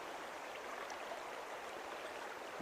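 A small burn trickling into the River Irthing near the Gilsland stepping stones, an even, soft rushing of running water heard alone at a moderate distance.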